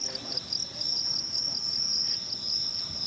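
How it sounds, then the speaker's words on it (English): Dense, steady chirping of many crickets bred for cricket fighting, a continuous high trill close by that fills the space without pause, with no talking over it. "Loads of crickets."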